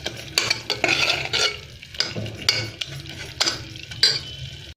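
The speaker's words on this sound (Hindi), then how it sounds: "अब हम इनको थोड़ा सा मैश कर लेंगे जिससे कि इनमें टुकड़े ना रहें।" Soft cooked tomatoes being mashed and stirred with a utensil in a frying pan, continuous close scraping and squelching strokes over a light sizzle, with no voices.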